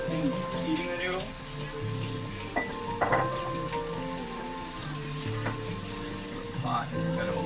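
Leftover Samyang Buldak ramen noodles being reheated in a hot pan give off a steady sizzle with occasional stirring clatter, a voice talking over it and a tonal hum running throughout.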